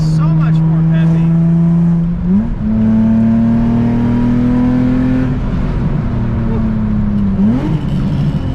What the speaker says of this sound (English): Dude, we got up to 35 miles an hour so fast. It's a lot heavier. It's so much more peppy.